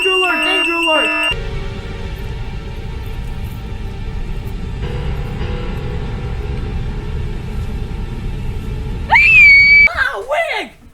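A girl screams aboard an airplane in The Langoliers: a steady rumbling cabin drone runs throughout, then a sudden, loud, high-pitched scream near the end rises sharply and falls away.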